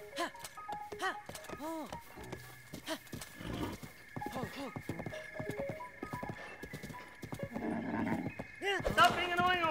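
Steady clip-clop of a horse's hooves trotting in Zelda: Breath of the Wild, mixed with game sounds and a voice talking over them.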